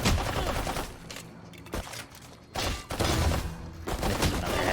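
Rapid bursts of automatic gunfire crackle in a competitive shooter video game match, dense volleys stopping and restarting in quick succession with brief gaps between them.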